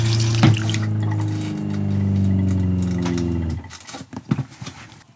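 A new RV toilet flushes as its foot pedal is pushed fully down, giving a loud, close rush of water for about three seconds before it cuts off, followed by a few clunks and drips.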